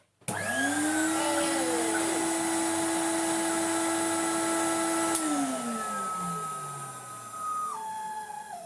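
A Numatic BX190 vacuum cleaner switches on with a sharp start, rises into a loud steady whining motor drone with a high tonal hum, then the pitch shifts and dips toward the end, close up with no talk.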